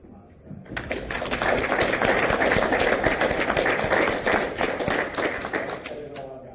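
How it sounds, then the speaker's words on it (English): A room of Freemasons at a Master Mason lodge meeting gives a round of applause, dense clapping that swells in and holds steady for several seconds before tapering off. "he deserves a round of applause for that"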